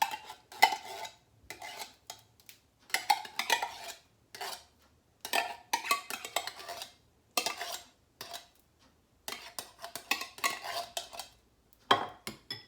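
Chicken soup and chicken broth are mixed in a slow cooker for chicken with mushroom gravy, heard as bursts of spoon scraping and clinking against the pot. The bursts are separated by short pauses, close and fairly loud, with no talking.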